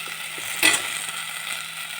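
Tomatoes sautéing in a pan with chili powder and turmeric for tomato pulao, a steady soft sizzle with a brief louder scrape of stirring partway through, close and alone without talk.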